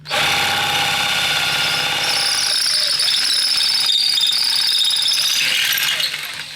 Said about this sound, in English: I'm just going to drill fast and carefully